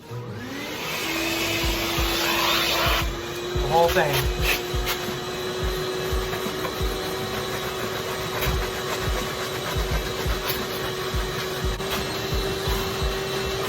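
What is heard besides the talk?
vacuum cleaner running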